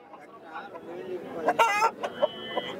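Roosters and hens at a country chicken market crow and cluck in short bursts close by, over soft background murmur, with a few sharp calls toward the end.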